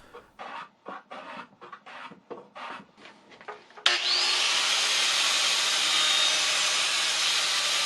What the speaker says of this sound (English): here I am trying to be a proper woodworker and do it with a hand plane